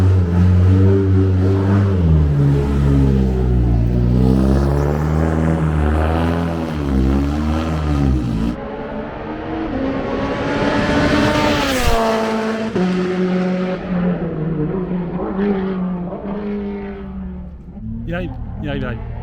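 The EVO Escort race car screams along the Motegi circuit at speed, its engine note climbing and then sweeping down as it passes close by, with excited voices talking over it.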